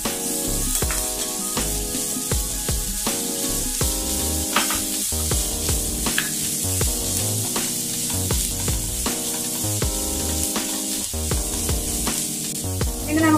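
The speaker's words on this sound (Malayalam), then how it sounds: "ഇനി നമുക്കിതിലേക്ക് കാരറ്റ്, കാപ്സിക്കം, പച്ചമുളക് എന്നിവ ചേർത്ത് കൊടുക്കാം." Carrot, capsicum and green chilli fry in a hot pan, giving a loud, steady sizzle that runs unbroken throughout.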